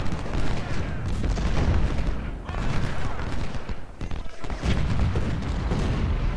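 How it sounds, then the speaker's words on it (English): 24-pounder cannons fire in a battle of the Ultimate General: Civil War game, heard as rolling booms and rumbling blasts over a dense, continuous battle din. "Our 24-pounders are getting ready to shell the enemy."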